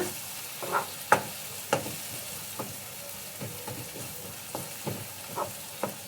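A spoon stirring spices and red chilli powder in a sizzling pan for palak paneer gravy, with soft scraping strokes repeating every half second or so over a steady, quiet frying hiss.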